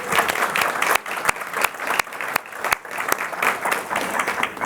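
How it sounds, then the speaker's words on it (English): An audience at a school board meeting gives a round of hearty applause for a scout, a dense, even wash of clapping with a few sharp individual claps standing out throughout. "if you could give a round of applause for Dane Donovan."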